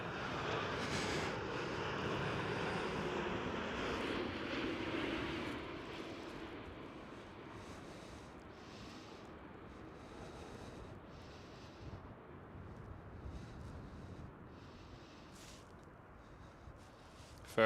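A KLM Boeing 787-9 jet airliner passes at Amsterdam Schiphol with a broad engine roar that peaks early, then fades into a steady distant rumble.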